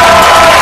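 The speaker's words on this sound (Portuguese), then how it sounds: "Aplaudam o inventor da primeira robô sexual inteligente do mundo, Yuri Machado!" Television studio audience cheering and applauding as a guest is introduced on a talk show, a brief loud burst of crowd noise.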